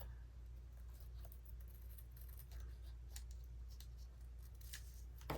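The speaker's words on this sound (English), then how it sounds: "Okay, and we'll trim it." Scissors trim packing paper for a handmade envelope, a few faint crisp snips and slicing strokes spread across a steady low background hum, near but quiet, with no voices.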